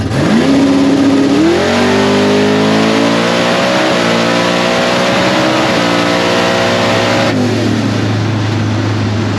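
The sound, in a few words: drag race car Babe the Blue Fox engine breaking up during run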